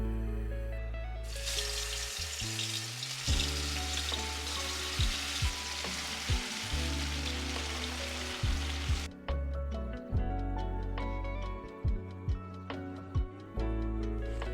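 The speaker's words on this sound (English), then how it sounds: "Now you can either shallow fry them or air fry them with minimal oil." Rice potato tikkis shallow fry in oil in a pan: a loud, steady sizzling hiss for most of the time, then quieter frying broken by sharp pops and clicks.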